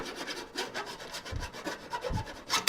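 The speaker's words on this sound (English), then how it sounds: "One more little deburring" A hand file deburring the edge of a metal computer case, producing quiet rasping strokes in a short uneven rhythm with a couple of heavier rubs, close by and alone.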